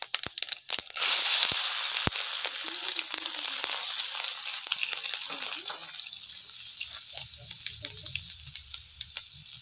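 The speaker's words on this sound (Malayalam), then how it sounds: "കടുക് ഇട്ട് കൊടുക്കുവാണേ" Mustard seeds fry in hot coconut oil for upma, with sharp pops and crackles over a close sizzle that thin out as it settles, and a faint voice toward the end.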